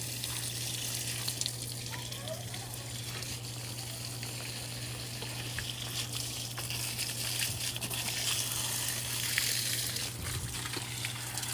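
Water sprays steadily from a hose onto a spring garden at sunset, a continuous hissing, splashing wash that holds an even level throughout, fairly near, with no talking.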